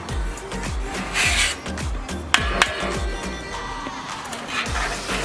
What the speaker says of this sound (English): actually scraping it off properly.